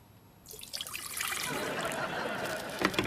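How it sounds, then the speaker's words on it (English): Coffee is poured into a cup in a continuous liquid trickle that starts after a quiet moment, rising into a steady splashing stream, close and moderately loud. "Now he pours the coffee."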